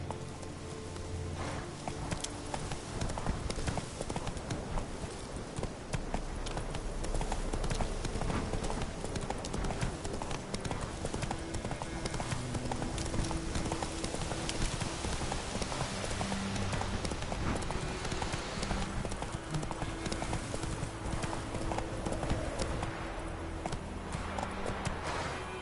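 Roach the horse trots in The Witcher 3, a steady clip-clop of hooves running the whole way through, mixed with dense game sound.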